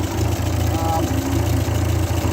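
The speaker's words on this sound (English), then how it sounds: "look at that, it's sitting there idling" A 1941 Ford 9N tractor engine idles close by in a steady low chugging rhythm, loud and even, with some faint talk alongside.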